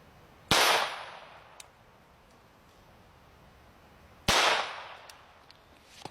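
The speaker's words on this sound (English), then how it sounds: "Starting it off right with a .22 long rifle out of this pistol." Two sharp, loud .22 Long Rifle pistol shots striking a titanium plate, each a crisp crack with a short ringing metallic tail, spaced several seconds apart outdoors.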